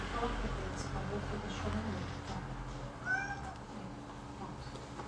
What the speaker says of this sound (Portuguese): É que estão os gatos chorando aqui,